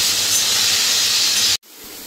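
Curry leaves sizzle in a hot pan for a Tamil mint, coriander and curry leaf thovayal, a steady loud hiss like steam that cuts off abruptly near the end, then quieter frying noise.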